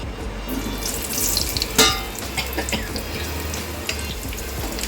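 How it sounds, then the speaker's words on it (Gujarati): Potatoes shallow fry in about a cup of oil in a pan on a gas stove, making a steady, dense hiss and crackle with scattered sharper pops, fairly loud and close. "કારણ કે આ બટાકાને આપણે સેલો ફ્રાય કરીશું."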